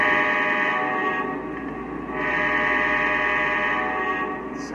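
A model CSX ES44AC locomotive in Seaboard System livery sounds a sustained horn with a steady tonal chord, close and fairly loud, dipping briefly in the middle before resuming, with no talk over it.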